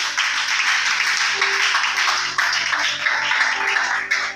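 Sustained applause from a church congregation at a French-language service on tithes and offerings, a dense steady wash of many hands clapping together for several seconds, fairly loud and close, with faint voices mixed in.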